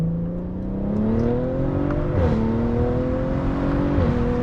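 A tuned Audi B9.5 RS5 with an IE Stage 1 tune accelerates hard, its engine pitch climbing steadily through two gear changes, loud and close from inside the car.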